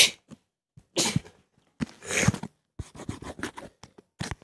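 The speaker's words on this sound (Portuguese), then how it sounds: "Eu espirrei aqui sem querer." Someone sneezes abruptly a few times while playing Minecraft PE Sky Wars, the sharp bursts followed by scratchy, rustling noises close to the microphone.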